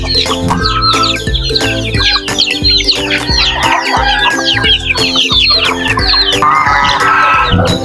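A crowd of native chickens with many chicks makes loud, continuous clucking and high peeping chirps close by, overlapping busily throughout.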